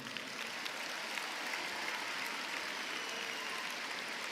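Soft, distant applause from an audience at a Prix Liberté awards ceremony, a thin, even rustle of clapping held at a low level throughout.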